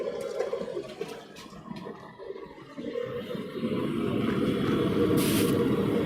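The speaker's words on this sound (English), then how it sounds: "It's hot enough to steam up the water, so obviously it's hot." Water hisses and steams as it hits the hot surface of a newly fired blacksmith forge in a smithy, a rushing sizzle that builds louder and steadier toward the end.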